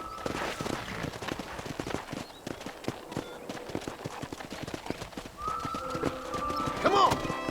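Rapid, steady hoofbeats of a galloping horse in Red Dead Redemption, a continuous rhythmic clatter with some background sounds layered over it.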